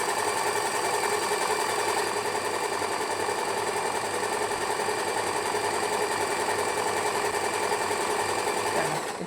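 An Usha Janome sewing machine runs steadily at an even speed while stitching a rolled hem on fabric, giving a close, continuous whirring rattle that holds unbroken throughout and stops just at the end.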